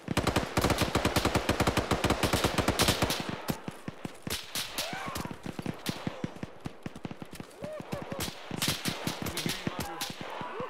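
Rapid automatic gunfire from the Arma video game during a firefight with enemy contact: a long dense burst opens, then scattered single shots and short bursts follow, loud and close, with radio chatter underneath.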